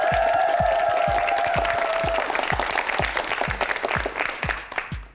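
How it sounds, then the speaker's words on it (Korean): Studio audience applause on a Korean TV word quiz show, a dense steady clapping from the whole crowd that carries strongly through the clip before thinning and fading at the end. "박수 보내주세요"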